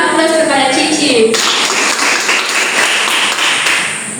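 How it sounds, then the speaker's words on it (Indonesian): A classroom applauds a student in a clear burst of clapping that follows a short stretch of speech and continues steadily for a few seconds before fading slightly. "Kita berikan aplaus kepada Cici."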